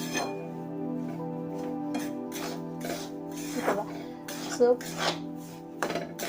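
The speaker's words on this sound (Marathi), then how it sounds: "सर्व बाजूने असं हलवून घ्यायचं आहे" Spoon scraping and clinking against a pan as a rava laddu mixture with ghee is stirred around on all sides, steady soft scraping with a few sharper metallic knocks, over a low steady hum.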